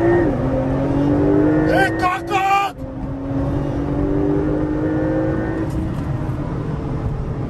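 A 2021 Porsche 911 Turbo S launches at full throttle, its engine revving loudly and rising in pitch through a quick gear change before settling into a steady, strong drone, heard from inside the car.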